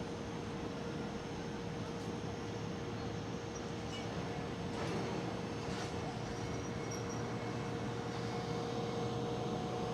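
Steady broadband jet engine whine and hum from an Air Europe Boeing 787 during pushback at Amsterdam Schiphol airport, heard from a distance, constant and unbroken with a faint tonal drone.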